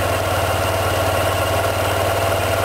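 A car engine idles steadily after its idle screws were adjusted during a 12k service, a constant, loud low rumble with even vibration and no pauses.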